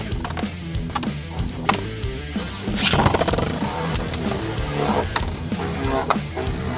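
Brave Valkyrie and World Spriggan Beyblade spinning tops battle in a plastic stadium, a steady whirring rattle with repeated sharp clacks as the tops collide, loud and close with no talking.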